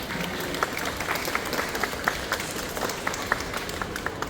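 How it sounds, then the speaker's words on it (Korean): An audience at a bookstore library book talk gives a steady round of applause, many hands clapping in a dense, even wash with scattered sharper claps, moderately distant and continuous throughout. "여러분 다시 한번 큰 박수 부탁드리겠습니다"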